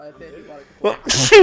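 A single loud sneeze bursts out near the microphone during a tabletop game session, preceded by quiet talk among the players.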